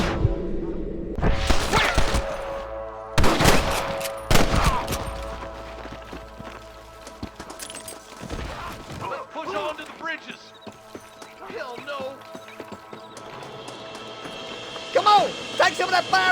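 Gunfire erupts in a Red Dead Redemption shootout beside a marshal: a few loud, sharp shots ring out early, followed by further scattered gunfire under shouted game dialogue and a busy background.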